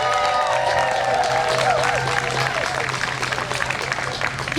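A crowd at a Pride Day event in North Haven, Connecticut applauds and cheers for Congresswoman DeLauro, with steady clapping and whoops filling the scene loudly and continuously, and a whistle-like tone rising above.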